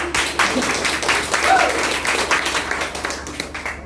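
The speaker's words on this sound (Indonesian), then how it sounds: "kasih aplaus dulu Pak Wayan sebentar" Applause from a seminar audience for Pak Wayan, steady clapping that swells early then eases off slightly, heard at moderate level across the room.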